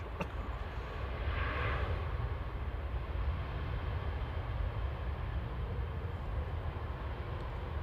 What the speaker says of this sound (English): EasyJet from Berlin touched down. OEIDU. Flight 5317. It's the rarely spotted A320.